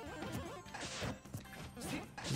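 Repeated smash attacks land in Super Smash Bros. for Wii U with Cloud, a rapid series of loud cracking hits and whooshes, several impacts in quick succession.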